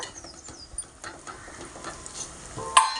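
Onions and cashews fry in a pan for chicken cashew curry, with a quiet, steady sizzle, light stirring scrapes and a sharper metallic clink near the end.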